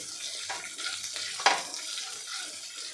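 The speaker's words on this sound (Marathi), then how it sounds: "एक चमचा आलं लसणाची पेस्ट आता हे आपल्याला परतून घ्यायचं आहे" Ginger-garlic paste sautés in a pan for a spiced rice dish, giving a soft continuous sizzle with light stirring scrapes and one brief sharper clink.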